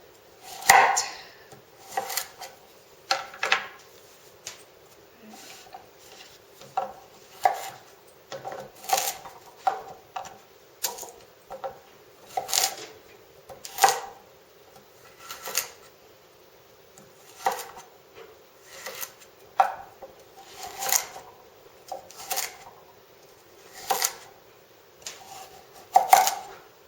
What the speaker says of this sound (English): Cut out 5 of the carrots, and I'm going to just keep packing them into the jar.